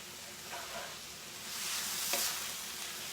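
Chicken fried rice sizzles in grapeseed oil in an electric skillet, a steady close frying hiss that swells midway with occasional stirring scrapes, no voices.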